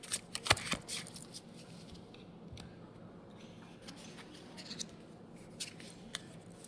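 Tarot cards are gathered and shuffled close by, giving quiet papery riffles and soft taps in irregular bursts, faint but clear with no talking over them.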